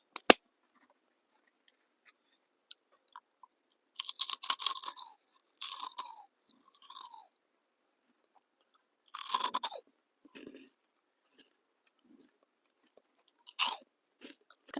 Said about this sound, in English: I have hot Cheetos